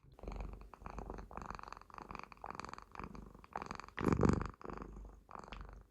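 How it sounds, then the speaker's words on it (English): A cat purrs right into a microphone, a loud, close, rhythmic rumble of steady breathing cycles repeating throughout with no talking over it. "Thank you for purring into the microphone."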